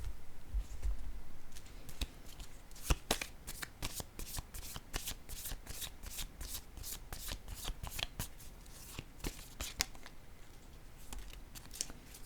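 Tarot cards riffled and shuffled close up on a table, a quick rapid run of crisp flicking snaps and slides that continues steadily, quiet and without talking.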